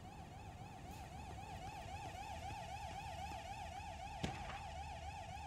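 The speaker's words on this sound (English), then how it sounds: "Oh, there's a siren." A wailing siren in the video game Control rises and falls in a steady, rapid cycle, moderately loud over a low rumbling background, with no talking.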